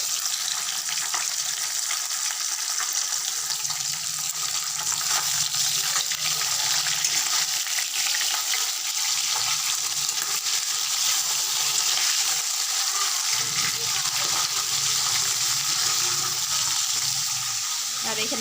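Fish frying in a pan with a steady, loud sizzle that holds throughout, a slight shift in tone partway through.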